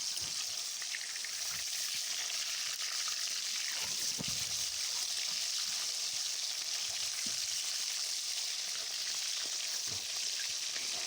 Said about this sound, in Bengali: আর একদিকটা উল্টে দিচ্ছি।